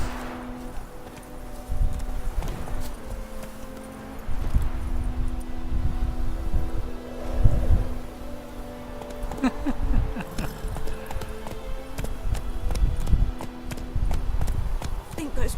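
Horse hooves clip-clop at a steady walking rhythm in The Witcher 3, mixed with wind and ambient game sounds while someone talks over the footsteps.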